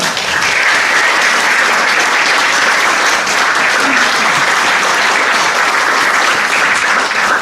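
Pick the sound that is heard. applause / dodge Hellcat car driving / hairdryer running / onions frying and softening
applause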